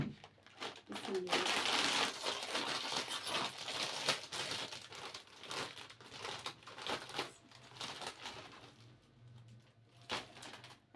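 A plastic bag being opened, with bursts of crinkling and rustling that come and go over about eleven seconds, mixed with taps and handling noises while someone talks close by.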